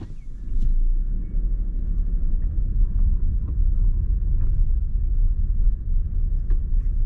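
A Vauxhall Grandland X turns at full steering lock, giving a steady low engine rumble heard from inside the cabin, with faint clicks and creaks over it and no voices.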